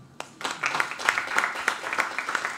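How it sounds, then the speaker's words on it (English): A small audience claps for a few seconds, an uneven patter of hands rising quickly and holding steady. "I believe we should all give ourselves a round of applause for being here."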